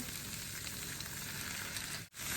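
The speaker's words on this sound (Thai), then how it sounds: "ผัดไฟอ่อนๆไปเรื่อยๆ นะคะเพราะนี่กลัวน้ำมันเขากระเด็น" Eggs stir-frying in oil over low heat in a kitchen pan, giving a continuous soft sizzle and crackle up close that briefly drops out near the end before resuming.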